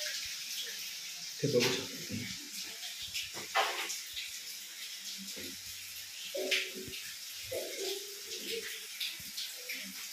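A waterfall beside the Karla Caves near Lonavala gives a steady, soft rushing hiss in the background, while a person talks over it throughout.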